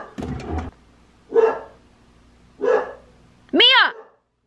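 A pet dog barks in a home, three separate loud yapping barks spaced about a second apart, the last higher and more whining; a woman calls out over the opening bark.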